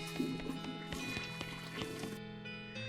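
A toilet flushes in the West of Loathing video game, a soft gurgle of watery splashes and drips lasting a couple of seconds and tapering off, quiet, with no talk over it.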